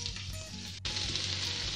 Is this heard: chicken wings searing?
yes